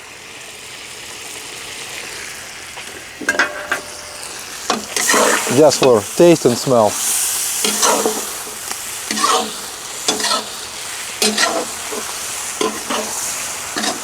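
Onion and garlic sizzle and crackle in a hot pan, with stirring scrapes and a brief spoken remark over the frying.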